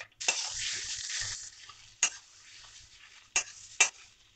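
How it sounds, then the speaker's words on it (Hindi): Mashed potato frying in a pan for vegetable kheer gives a close sizzle that fades, then a few sharp scrapes of a spoon against the pan at irregular intervals. "अब इसको आलू के साथ भी फ्राई करेंगे"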